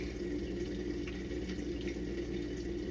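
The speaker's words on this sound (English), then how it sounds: "Now we're gonna go ahead and rinse off." Tap water runs steadily while hands are rinsed under it during surgical hand washing before sterile gloving, giving a constant close splashing hiss with no pauses.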